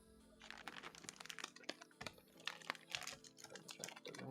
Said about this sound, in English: I'll unwrap it right now.